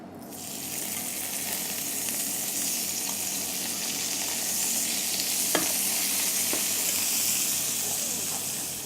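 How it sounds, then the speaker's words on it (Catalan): Diced ham sautéing in a pan with artichokes confit in oil, giving a steady, close sizzle and hiss that runs throughout, with a few light clinks of stirring. "Saltegem una miqueta aquests dauets de pernil amb aquestes escarxofes."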